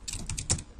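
Several quick keyboard keystrokes press a shortcut, close and fairly quiet, with the sharpest click in the middle of a short burst.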